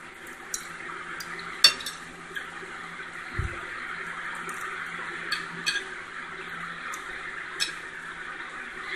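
Bacon pieces fry in a small pan while gravy is being made: a steady, moderate sizzle with a few light clinks of a utensil against the pan throughout.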